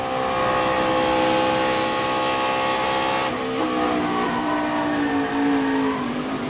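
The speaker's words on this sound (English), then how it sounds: "We'll go in car with him and watch his hands and listen to the throttle." In-car sound of a NASCAR race car at speed, its engine droning loud and steady, with the pitch shifting as the driver works the throttle partway through.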